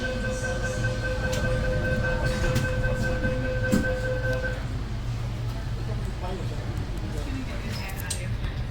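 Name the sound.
Sydney Metro shuttle train departing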